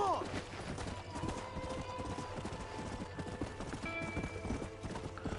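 Horse hooves clip-clop steadily in Red Dead Redemption, a continuous rhythmic trotting that stays prominent throughout, with a brief whinny near the start and game dialogue and music running underneath.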